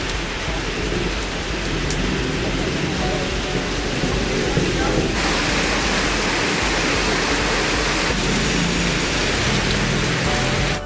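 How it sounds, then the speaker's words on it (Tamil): Heavy evening rain pouring down in town during a downpour, a dense continuous roar of water hitting surfaces, loud and unbroken throughout with slight shifts in intensity. "மாலை கருமேகங்கள் சூழ்ந்து மழை கொட்டியது"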